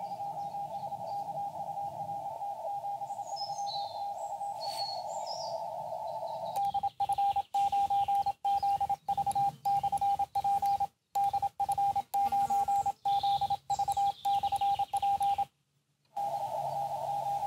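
Signal from a portable amateur radio station received on a portable QRP bicycle radio setup: a steady pitched tone over hiss and static, later chopped by rapid on-off breaks and short dropouts.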